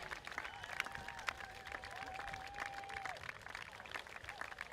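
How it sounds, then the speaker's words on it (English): Crowd at the Rottnest Channel Swim finish line cheering and clapping steadily for arriving swimmers, a continuous busy wash of applause and shouts with a whistle-like tone briefly rising above it. "Everyone, got to keep cheering."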